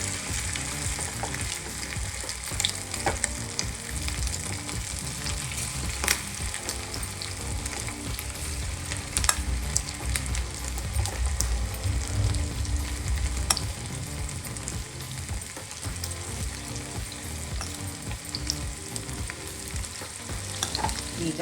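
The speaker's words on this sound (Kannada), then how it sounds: "ಇದರಲ್ಲಿ ಚೆನ್ನಾಗಿ ಅದು ಫ್ರೈ ಆಗಬೇಕು." Crispy chicken kabab pieces deep-frying in hot oil, a dense, continuous bubbling sizzle that holds steady and close throughout with faint crackles, no talking.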